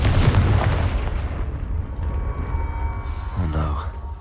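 A Confringo fire spell bursts in Hogwarts Legacy with a loud explosive boom and rumble that fades into a sustained roar, followed by a brief crackling flare near the end.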